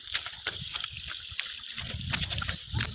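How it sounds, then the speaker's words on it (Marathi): Feet slosh and squelch through muddy rainwater on a monsoon trek to Rajgad Fort in the Sahyadri hills, a series of close, uneven wet splashing steps. "चिखला पाण्यातून आम्ही असं चालतोय."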